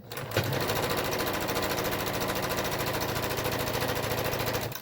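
A sewing machine runs steadily and loud for nearly five seconds, stitching a fabric face mask with elastic ear pieces, its rapid needle rhythm continuous with no talk over it.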